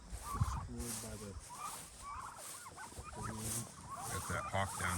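Turkeys raised on a heritage pasture farm gobble several times in quick rattling bursts, close and clear, with faint background noise between calls.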